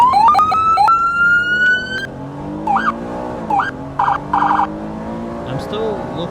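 Emergency vehicle siren in a video game, modelled on a Smart Siren 2000 controller, cycling through several tones: a rising wail, short yelp bursts and rapid piercing chirps, loud and close with engine noise underneath.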